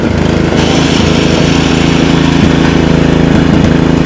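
A lawn mower drones steadily and loudly up close, its engine running at an even pace with a rough, buzzing hum and no voices over it; the machine had been smoking after cutting long grass.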